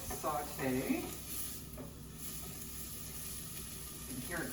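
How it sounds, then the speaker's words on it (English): Garlic sizzles softly as it sautés in a pot for a one-pot tomato spinach pasta, with a steady low crackle and brief stirring scrapes near the start and end. "You can hear it sizzling away."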